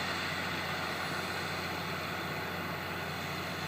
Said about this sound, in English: The engine's running up there too.